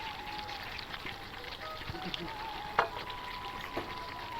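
Meat cooks down slowly in oil in a pan before fried potatoes are added, a soft, low, steady sizzle with a couple of faint clicks, quiet and without talk.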